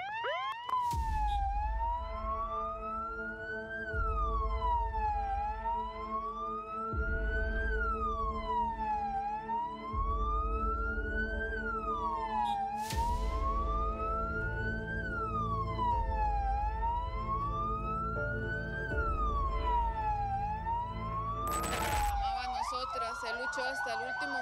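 Police sirens wail in a continuous rising-and-falling cycle at a funeral procession with many traffic police vehicles and tow trucks, loud and close alongside engine rumble, with a second tone joining near the end.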